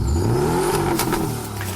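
A Porsche 718 Cayman coupe of the 982 series revs its engine loudly and close by, its pitch climbing and then easing back, with no voices.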